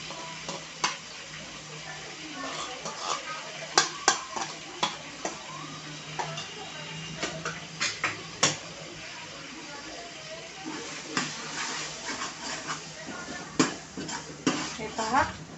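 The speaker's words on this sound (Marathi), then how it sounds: "आणि हा मसाला छान असा तेलावरती भाजून घ्यायचा आहे." Spice paste (masala) roasting in oil in a pan for a crab curry, with a steady soft sizzle under scattered clinks and scrapes of a spoon, close by, and no speech in the clip.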